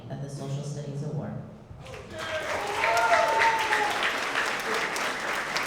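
A room full of people applauds student award winners at a school ceremony. A voice is heard first, then clapping swells in and holds steady, fairly close and full.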